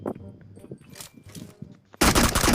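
Burst of rapid gunfire in the mobile battle-royale game PUBG Mobile, loud and dense for the final half-second, following a stretch of voices and quieter game sounds.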